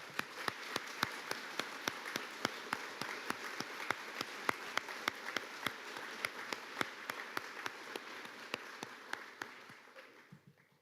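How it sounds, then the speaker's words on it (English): At a National Honor Society induction ceremony, a small crowd gives a round of applause, with distinct, fairly regular claps heard at a distance that fade out toward the end. "Please recognize our newest members with a round of applause."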